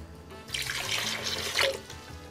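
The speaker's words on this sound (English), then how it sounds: "Add your water," Water pours into a blender holding boiled peppers for a spicy Mexican beef soup, a steady splashing stream lasting a couple of seconds with a brief louder gush near the end, close by and with no talking.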